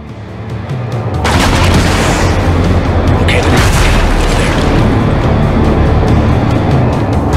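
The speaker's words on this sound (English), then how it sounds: "We got a rocket coming." A rocket strikes in Ghost Recon Breakpoint with a loud, sustained explosive roar that sets in abruptly and keeps rumbling heavily, and rattling gunfire is mixed into the blast.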